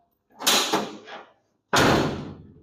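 A door on a cab-over-engine vehicle build is swung and latched with a rattling clunk, then after a short pause shut again with a loud, close, solid slam.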